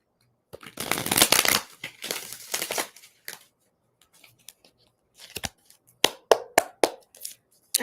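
Close, crisp riffling of a tarot deck being shuffled by hand, one long burst of rapid card flutter followed by shorter bursts and then quick separate snaps and taps as the cards are cut and squared, with no talking.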